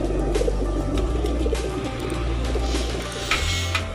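Flying pigeons coo in a steady low murmur, several birds overlapping, with a constant low rumble of background noise throughout.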